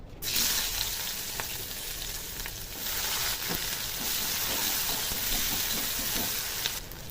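Onions go into a little oil in the pan used for frying rohu fish, giving a steady, close sizzle with occasional sharp crackles and spatter throughout.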